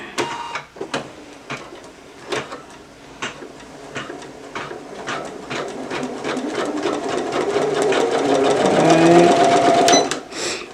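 An embroidery sewing machine stitches steadily at close range, a rapid mechanical needle rhythm that builds in loudness, with a higher whirring tone rising near the end before it cuts off.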